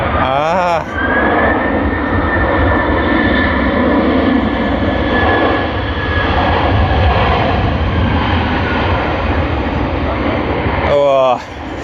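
A Singapore Airlines airliner, flight SQ221, at Sydney Airport roars past with a loud, sustained engine rumble and whine, swelling and fading, while a voice chimes in briefly at the start and end.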